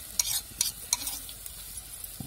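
Crushed garlic and chilli sizzle gently in a pan for Maharashtrian dahi kadhi, with a few sharp stirring scrapes of a utensil over a soft, continuous frying hiss.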